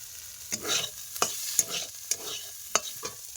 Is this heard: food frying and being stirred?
yes